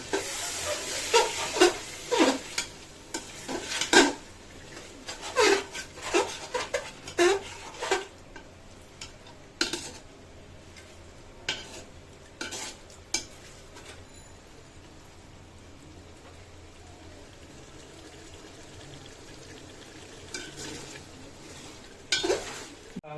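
A spoon stirs chicken in a pot of Hyderabadi chicken polao after a splash of water is added, giving scattered scraping clinks and wet shuffles that fade to a soft, steady hiss in the quieter second half.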